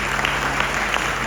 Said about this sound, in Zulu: Ngiyacela sibaqabele ihlombe enkulu.